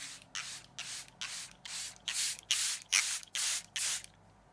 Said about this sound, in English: we're going to grab our setting spray and we are going to spray